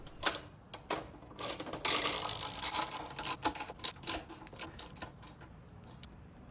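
A ratchet clicks in quick, uneven bursts while tightening the front bolt on a Lowrider Shovelhead motorcycle during assembly after a rebuild. The sound is close and fairly quiet, with no talking.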